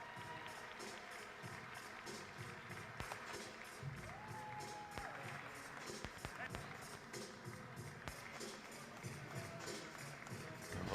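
Audience applause and crowd noise fill an arena at a Marian women's college basketball game honoring senior Kennedy Gerard, a steady dense patter of clapping heard from a distance with an announcer's voice over it.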